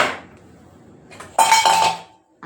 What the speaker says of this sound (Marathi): आणि ही आता आपण कुकरला ढाकण देऊ लागू आणि गॅसवर ठेवू.